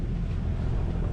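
Light wind buffets the microphone aboard a boat near a mangrove off Puerto Rico, a steady low rumble with water noise underneath, brief and unbroken.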